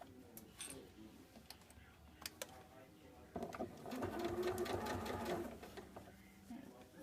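Sewing machine stitching a collar stand onto a shirt with a quarter-inch seam, its rapid mechanical whir starting in short bursts and then running steadily, close and clear.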